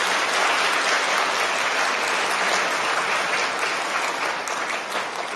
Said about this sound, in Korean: 인사드릴 때 따뜻한 환영의 박수 부탁드리겠습니다